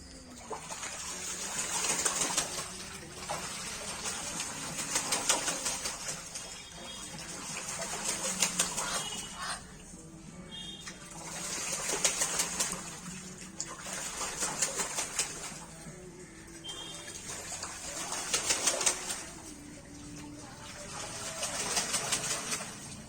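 Ducks bathe in a small bowl of water, giving repeated bursts of splashing and sloshing that rise and fall in waves, with soft dripping and low rustling between them.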